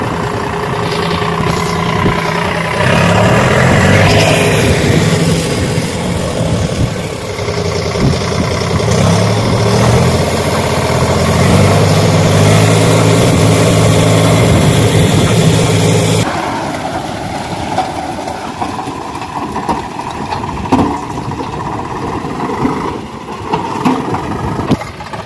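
Tractors run at a dusty rural site, their engines droning loud and close with a throbbing low rumble that drops to a quieter idle partway through, with no talk.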